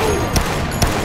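Gunfire in the Dead Rising video game: two quick, sharp shots about half a second apart, close and loud over a busy game background.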